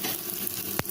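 Cumin, asafoetida, fenugreek and fennel powder sizzle in hot oil while raw mango launji is being cooked, a steady close frying hiss with one sharp clink near the end.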